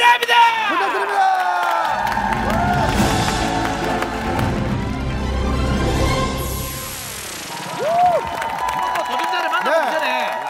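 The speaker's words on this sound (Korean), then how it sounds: "여러분들의 큰 박수가 필요합니다!" Studio audience on a Korean talent show applauding and cheering, with crowd noise under music and voices, rising and falling across the stretch.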